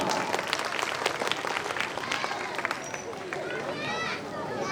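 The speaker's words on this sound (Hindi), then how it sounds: "इसलिए एक बार जोरदार ताली।" A large audience at an award ceremony breaks into loud, sustained applause, a dense crackle of many hands clapping, with crowd voices mixed in throughout.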